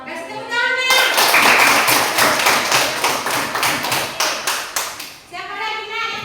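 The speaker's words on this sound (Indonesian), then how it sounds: "Kasih tepuk tangan" Group of children in a Quran recitation class clapping together in a short burst of applause, busy and close, fading into slower scattered claps as voices return around it.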